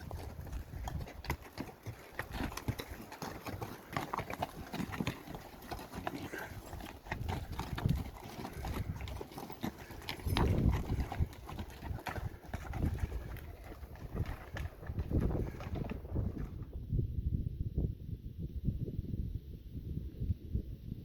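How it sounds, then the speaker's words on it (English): Many hooves clop steadily on a rocky trail near Mount Whitney as a group of horses passes close by, while a dove coos softly in the background before the sound fades. "Just had a whole bunch of horses go by."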